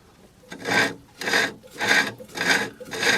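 A woodturning tool being rubbed against the tool rest while it is sharpened, with five rhythmic rasping strokes, each about half a second long, evenly spaced, close and fairly loud.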